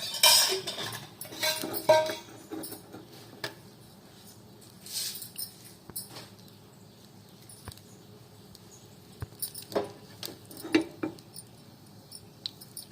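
Mustard seeds pop in hot oil: scattered sharp pops and crackles, irregular and fairly close, with a few louder bursts among quieter sizzling ticks.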